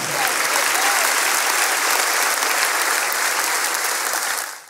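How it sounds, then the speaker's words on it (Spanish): A church congregation breaks into loud, sustained applause, a dense wash of clapping that carries steadily for several seconds before tapering off at the end. "Le damos un fuerte aplauso al Señor."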